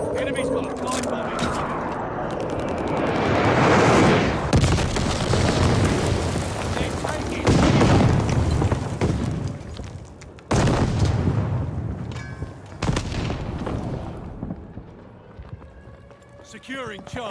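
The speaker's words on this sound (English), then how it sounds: "Enemy's got a glide bomb." Heavy booming blasts and rumbling debris from glide bomb explosions in Call of Duty Vanguard, several loud impacts rolling one after another with chaotic battle noise in between.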